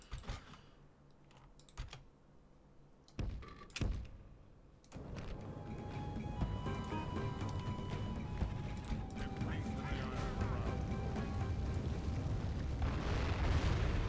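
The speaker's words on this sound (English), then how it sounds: "Mortar strike, bugger." Mortar strike explosions in the Divide & Conquer video game: a few sharp early hits, then a swelling rumble of blasts and battle noise that grows louder and denser, with keyboard clicks and players talking over it.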